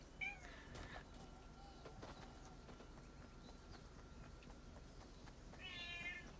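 A cat meows near the start and again near the end, with a harsher, louder cry at the close, against a quiet indoor background.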